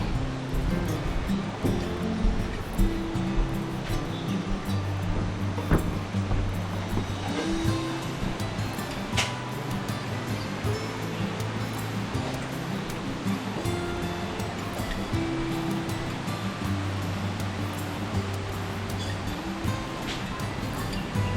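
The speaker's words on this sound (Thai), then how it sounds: "วิวด้านหลังบ้านนะคะ ติดลำธารเลย" A stream flows behind a homestay in Ban Pa Miang village, Lampang, as a steady, moderate watery rush, with faint engine hum and scattered distant sounds beneath it.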